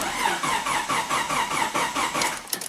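A Nissan car that has sat in a garage for a week, its engine cranking in a steady rapid rhythm of starter pulses, loud and close, with a brief squeal near the end.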